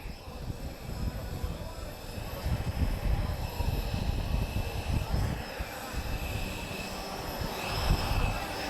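A Lynx helicopter flying an airshow display at the Portugal Air Summit, its broad engine and rotor roar steady and moderately loud, swelling slightly near the end, with faint voices in the background.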